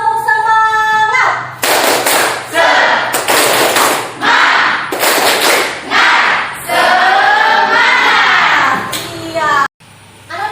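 A school class performs a rhythmic clapping routine, with bursts of loud group claps alternating with children's chanted voices in a lively, patterned cadence, ending abruptly.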